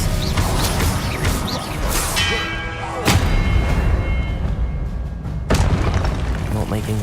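Spell-casting effects from Hogwarts Legacy gameplay, a run of loud booming blasts and crashes with sharp impacts around three and five and a half seconds, layered with magical shimmer and game music while a voice speaks over it.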